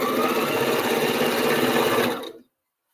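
A sewing machine runs steadily, stitching fabric for a divided drawstring bag, a close, continuous motor hum for about two seconds before stopping abruptly.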